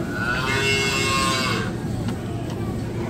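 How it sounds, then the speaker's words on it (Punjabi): A recorded cow moo plays from a button-operated toy or device, one drawn-out low call lasting about a second and a half, followed by quieter background noise. "ਬਟਨ ਪ੍ਰੈਸ ਕਰੋ ਅਤੇ ਗਾਂ ਬੋਲਦੀ ਦੁੱਧ ਵਾਲੀ"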